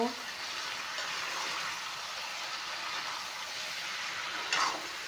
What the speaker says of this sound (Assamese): এতিয়া যিহেতুকে কোমোৰাখিনি দিছোঁ, অলপমান টাইম ভাজি ল'ম